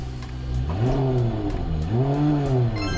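A hybrid car's petrol engine kicks in while the car is already moving, revving up twice in smooth rising sweeps, close and steady with no talk.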